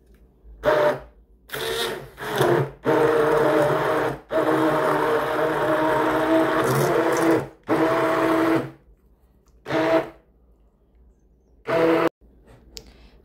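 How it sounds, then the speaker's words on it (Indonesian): An electric blender whirs through a detox drink in loud, repeated bursts of motor noise, each start-and-stop run lasting a second or several, with short quiet gaps in between. "ini sekarang saya mau blender ya"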